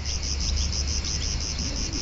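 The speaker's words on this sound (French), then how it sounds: "les cigales qui chantent" Cicadas sing outdoors among trees in a steady, pulsing, high-pitched drone that stays loud and unbroken throughout, with a low rumble underneath.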